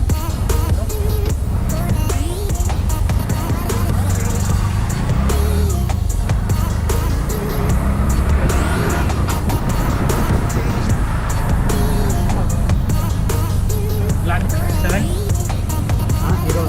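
Auto rickshaw ride from Om Beach to Gokarna bus stand, a constant loud engine rattle and rush of road noise with people's voices mixed in along the way.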